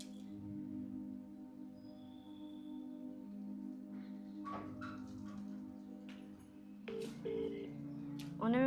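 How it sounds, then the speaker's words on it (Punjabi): Several short phone-dialing tones, keypad beeps at intervals over a steady low hum, with faint voices nearby. "ਮੈਂ ਕਰਦਾ ਫੋਨ"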